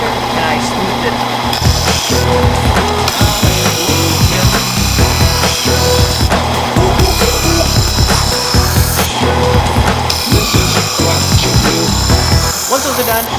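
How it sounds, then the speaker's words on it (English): A jigsaw rough-cuts a traced wooden cornhole board piece, a loud, continuous buzzing saw with rapid rasping strokes. A voice talks over it. "took that tracing over the jigsaw, rough cut it out"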